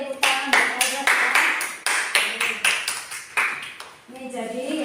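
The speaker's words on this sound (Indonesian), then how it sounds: "Tepuk tangan buat Albert ya" A classroom group claps for a student named Albert, bursts of hand claps mixed with voices and pinging tones, uneven and close.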